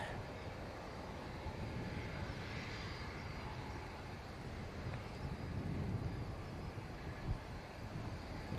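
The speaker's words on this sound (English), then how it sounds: "PC-12 should be just touching down, which it is, just behind" A Pilatus PC-12 turboprop touches down at Manchester Airport, heard as a distant, steady broadband roar mixed with wind buffeting the microphone, with no distinct peaks.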